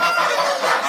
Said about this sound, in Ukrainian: гуси, качки, індики